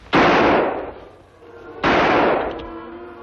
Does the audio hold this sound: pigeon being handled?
no